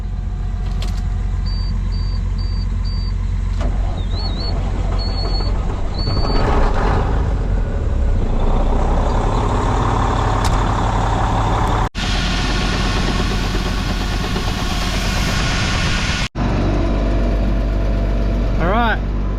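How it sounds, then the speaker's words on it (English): A farm truck used for tipping fertilizer starts, then its engine idles in a steady low rumble that fills the whole stretch, with a few short beeps near the start and abrupt cuts later on. "Just going to start the truck so that we can tip it up and put some fertilizer in."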